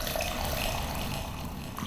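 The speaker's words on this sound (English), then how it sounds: "let's get that water rocking in this apple fortified beverage" Water pours steadily into a pouch of apple-flavoured fortified drink from an Irish Defence Forces 24-hour ration pack, a close, continuous splashing fill with no talk.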